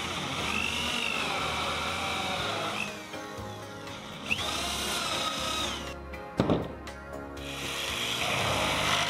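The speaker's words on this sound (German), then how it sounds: "Sie werden vor dem Zusammenbau der Einzelteile mit Loch- und Stichsäge in die" Power tools, a hole saw and a jigsaw, cut openings into plywood head plates of a model railway module, giving a steady grinding whine with rising and falling pitch and a sharp knock partway through.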